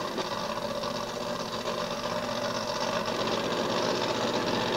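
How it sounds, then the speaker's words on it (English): A 1500 Ford-powered dragster named Black Widow at a Santa Pod drag race, its engine running with a steady, dense buzzing drone that stays loud throughout. "Black Widow was the 1500 Ford powered dragster of Roger Wilby."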